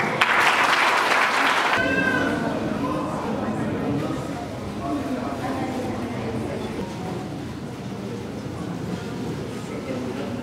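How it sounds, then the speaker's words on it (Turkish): Audience applause for teachers at an essay-writing competition held by the Yunus Emre Institute in Azaz, with a broad, steady clapping wash that starts loud and continues through the clip while a voice speaks over it. "hocalarımıza bir alkış"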